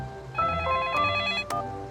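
A toy telephone rings out with bright electronic tones during children's make-believe play, a call placed to emergency services. The ringing runs steadily for about a second between two sharp clicks, fairly close and loud.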